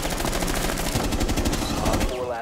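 Rapid automatic gunfire in Rainbow Six Siege, close and loud, bursts of shots rattling continuously through a tense 2v2 ranked round.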